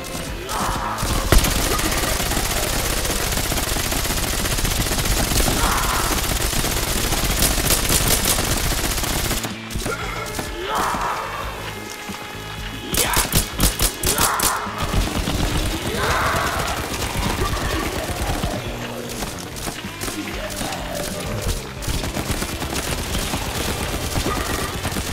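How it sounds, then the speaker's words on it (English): Sustained automatic fire from an MG42 machine gun in the Roblox video game, long dense rattling bursts filling most of the stretch with a brief break midway, loud and continuous with faint background sounds. "You got a wonder weapon. MG42."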